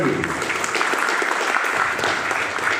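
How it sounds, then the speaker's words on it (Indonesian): Audience at a youth legislative school event in Belitung claps in a steady, dense burst of applause for a few seconds, fairly close and full, with no talk over it. "Tepuk tangan buat Pak Suhadi."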